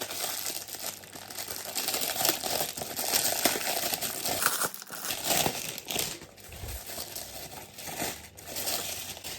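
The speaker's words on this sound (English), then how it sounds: "I'm just going to unwrap it now." Plastic packaging crinkles and tears steadily as a parcel from a shoe haul order is unwrapped close by, with continuous rustling and a few sharper rips.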